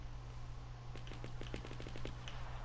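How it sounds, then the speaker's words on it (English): Distant gunfire crackles in PlayerUnknown's Battlegrounds as a rapid burst of about a dozen sharp shots. They sound over a steady low game hum, with no one speaking. "I can hear gunshots"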